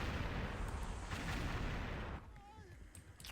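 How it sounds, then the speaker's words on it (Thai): Bomb explosions in the video game XSHOT, a loud sustained blast rumble that cuts off abruptly, followed by quieter crackling effects and scattered pops. "ระเบิดไปครับ ระเบิดไปบึ้มล่วง"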